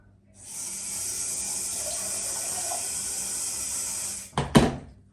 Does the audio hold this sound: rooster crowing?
no